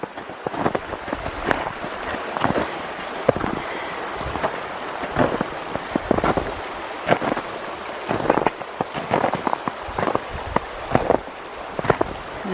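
A ranch creek flows with a steady rushing wash while footsteps crunch through snow in a regular rhythm of close, sharp crunches over the constant water.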